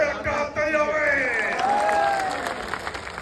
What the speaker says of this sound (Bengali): জোরে একটা হাততালি হবে।